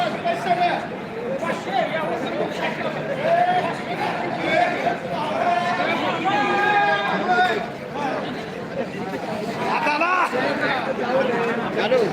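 Party workers at a Sangola election count cheer and celebrate their candidate's lead, a continuous crowd hubbub of shouts and overlapping voices, with people talking throughout.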